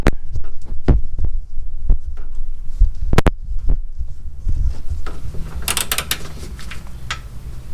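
A torque wrench tightens a lower control arm bolt to 77 ft-lb on a 2006 Nissan Altima. Close, sharp metallic clicks and knocks come irregularly, with a quick double snap partway through, over a low workshop hum.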